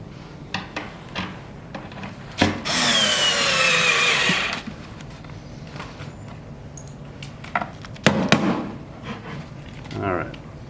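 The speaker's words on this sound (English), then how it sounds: "I'm going to attach this other piece using the complement screws" Complement screws driven into a cabinet panel during assembly of a Barker Modern general cabinet, a loud two-second burst of power-driver whir near the start, followed by scattered knocks and handling clicks.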